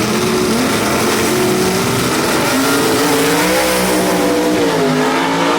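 Vintage gasser drag race cars, including Rob Walden's Dixie Twister and Todd Wimberly's Southern Comfort Falcon, launching off the starting line at Knoxville Dragway with a loud, continuous engine roar that climbs in pitch as they accelerate away.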